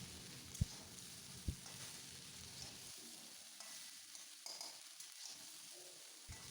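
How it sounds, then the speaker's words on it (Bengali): Broccoli fries in oil in a pan, a soft, steady sizzle heard close, broken by a couple of sharp knocks early on and quieting partway through. "এইভাবেই তেলে কিন্তু প্রথমে ভালো করে ভেজে নিতে হবে"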